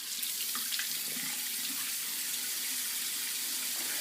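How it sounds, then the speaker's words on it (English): Hot tap water runs steadily into a bathroom sink for rinsing after a shave, a continuous close splashing hiss with no talking. "I'm going to rinse with hot."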